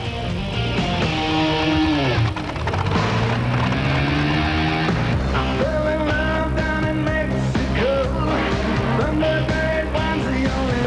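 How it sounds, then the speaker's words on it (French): Race cars with Chevy engines of the kind used at Indianapolis roar around a circuit at Bernay. Loud overlapping engine notes rise and fall in revving sweeps, continuous and close, with no speech. "Les vibrations engendrées par les moteurs font trembler tout le public"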